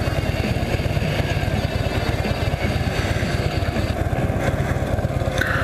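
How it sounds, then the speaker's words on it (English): A motorcycle engine runs close by with a rapid, even putter, steady throughout, with a brief higher whine near the end. "Plus my bike is hopefully louder."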